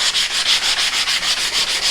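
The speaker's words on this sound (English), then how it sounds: "sand the length of the dowel down to smooth it down as well" Steady back-and-forth sanding along a wooden dowel for a drop spindle, a rhythmic rasping stroke repeating about five times a second, close and fairly loud.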